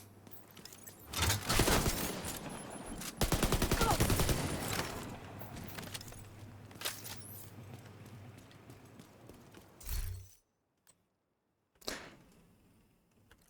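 The Obliterate weapon fires in a shooter game, rapid bursts of close shots in quick rattling strings, then sparser single shots with quiet gaps and a hush near the end.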